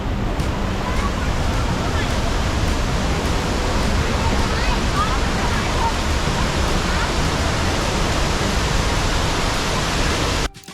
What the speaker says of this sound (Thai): เหมือนน้ำไหลเป็นน้ำตกอีกชั้นหนึ่ง